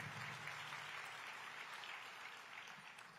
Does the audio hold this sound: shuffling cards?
no